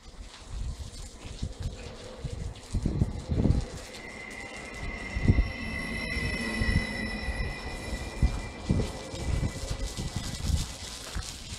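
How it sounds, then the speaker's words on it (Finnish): A commuter train arrives at a station, rolling in with rumbling wheels and a high, sustained squeal of brakes on the rails, steady and fairly close, with no voices. "Ja nyt tulee K-juna Helsinkiin."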